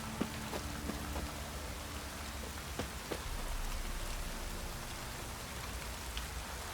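Rain falls in the video game The Witcher 3, a steady, even patter of drops on surfaces with a few sharper individual drips, quiet and continuous with no voices.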